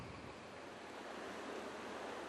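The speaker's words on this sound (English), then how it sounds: "And then there's the sea" Sea waves washing steadily, a soft, continuous surf hiss with no breaks, faint and fairly distant, with a windy edge. No voices.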